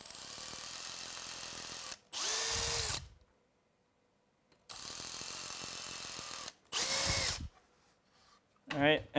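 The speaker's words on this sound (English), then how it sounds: "let's mark this other side up, and then we'll drill and attach it" Close power drill whirring in two long runs, each followed by a higher-pitched burst as the bit bites, with silences between.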